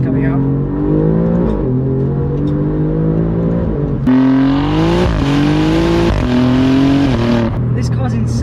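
Alfa Romeo Giulia GTA M in race mode accelerating hard, its engine climbing through rising revving sweeps with a sharp jump in intensity midway, loud and close from inside the car.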